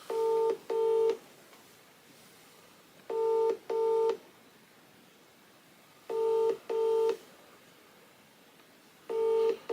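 Telephone keypad tones dialing a business number: repeated pairs of steady electronic beeps in clear bursts, recurring about every three seconds, loud and alone without any voices.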